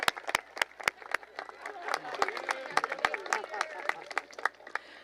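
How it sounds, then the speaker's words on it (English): Scattered, uneven clapping from an audience at a 2022 Butte College commencement, greeting retiring faculty and staff as they stand; sharp individual claps ring over a low murmur of crowd voices throughout. "let's give them a round of applause."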